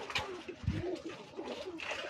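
White pigeons cooing nearby in a fancier's collection loft, soft low coos rising and falling over about two seconds amid a faint busy background.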